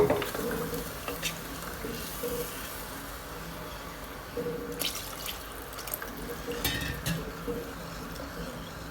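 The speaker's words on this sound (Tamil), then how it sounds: "ஆனால் இது பாஸ்மதி ரைஸ்ன்றதுனால நான் 1 லிட்டர் விட கொஞ்சம் கம்மியாக ஊற்றுறது தண்ணி" Water pours and splashes into a cooking pot for basmati rice in chicken biryani, with a steady trickle and scattered drips, fairly close, with no talking.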